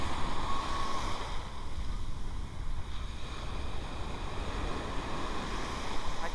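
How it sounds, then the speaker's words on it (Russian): Sea waves wash steadily onto the beach at Koktebel, a continuous broadband surge with gentle swells, mixed with wind buffeting the microphone and no voices. "Волны тогда прикольнее."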